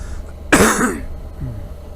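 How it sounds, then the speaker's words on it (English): A single sharp, loud cough bursts out close to the microphone, followed by a quieter throaty rasp, with near silence around it. "Sorry, cough coming."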